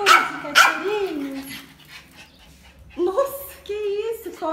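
A small dog yips and barks in short bursts at home, mixed with excited talking and exclamations from women nearby; the barks come in quick clusters near the start and again toward the end.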